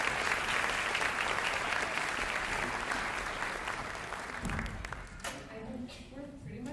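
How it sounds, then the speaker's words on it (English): An audience at a school fall orchestra concert gives a long round of applause, dense steady clapping that gradually thins and fades over several seconds while voices are heard underneath. "So a round of applause for them."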